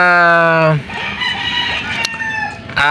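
A young pullet of a Raptor over Yellow-Legged Hatch cross gives a loud, close, drawn-out crowing call, then squawky clucking chatter, and ends with another rising call.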